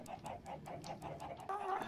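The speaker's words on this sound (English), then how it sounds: "A circle of chickens." Chickens in the Minecraft video game, a ring of birds clucking in a steady, rhythmic series of short calls, fairly close and continuous, with a slightly busier cluster of clucks toward the end.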